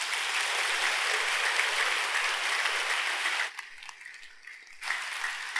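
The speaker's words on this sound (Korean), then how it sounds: "박수 한번 쳐주세요" Congregation applauding at a Sunday Buddhist dharma service, a steady wash of clapping that drops abruptly to a quieter spatter near the end before swelling briefly again.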